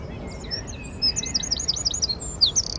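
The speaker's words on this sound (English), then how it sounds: "Where shrubland gives way to woodland, woodland birds compete for food." Woodland birds at the edge of shrubland and woodland give a run of high, repeated chirps and tweets, moderately close, against a faint low rumble of background noise with no talking.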